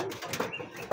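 Domestic pigeons coo softly in a loft, a few low throaty murmurs that sound close but quiet against faint background hiss.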